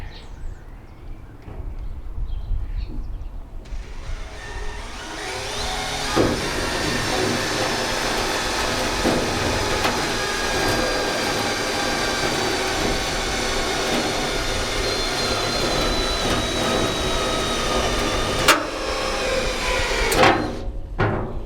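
A power drill bores a starter hole into a trailer, its steady whirring drone running loud and continuous for most of the stretch, with a few sharp knocks and clicks near the end.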